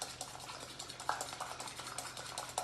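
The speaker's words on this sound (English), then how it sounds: "Just start whisking." A whisk beating a dark chocolate mousse mixture in a bowl, making faint, quick, steady ticking scrapes that run continuously throughout.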